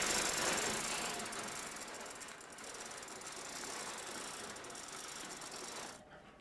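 An engine hoist ratchets steadily as it lifts a load from the back of a truck in a workshop building a 1929 Ford Model A hot rod, a dense metallic clicking that runs nearly the whole time, close and fairly loud, then stops abruptly.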